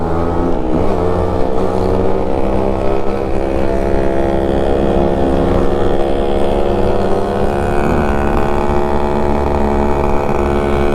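Yamaha RX135 two-stroke motorcycle being ridden on the road, a steady loud buzzing engine drone held throughout with slight pitch shifts and wind rush.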